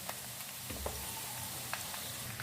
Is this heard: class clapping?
no